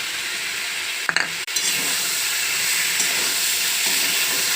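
Soybean chunks and yogurt frying in a pan for a soybean and potato curry, a constant loud sizzle interrupted by a sharp clatter as they are added, then steady hissing with faint stirring.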